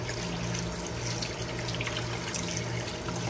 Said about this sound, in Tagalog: Hugasan na yan dito. Hugasan natin.